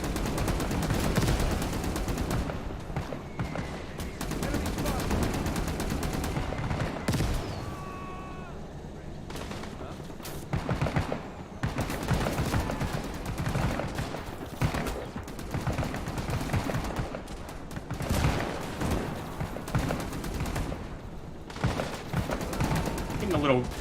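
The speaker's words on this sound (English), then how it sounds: "Machine guns, even?" Machine gun fire in the Cold War RTS Wargame, 1968 scenario: dense, continuous rattling bursts of automatic gunfire with booming impacts, steady and loud throughout with only brief dips.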